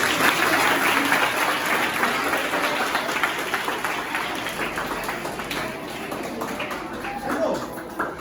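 A room of schoolchildren claps together in a sustained, dense round of applause that gradually thins out, with faint voices underneath.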